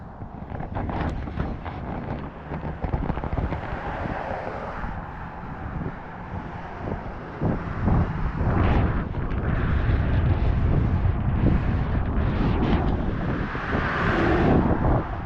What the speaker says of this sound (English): It is rather windy today